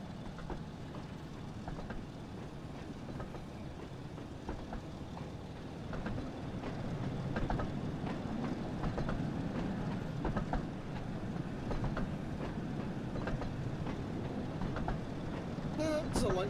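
A train rolling along rails in a Thomas and Friends video game, a continuous low rumble with faint rhythmic clicks that grows somewhat louder midway, with no one speaking.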